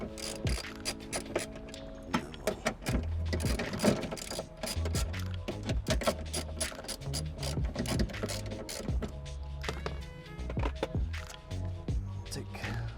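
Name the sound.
ratchet tightening bolts on a car window regulator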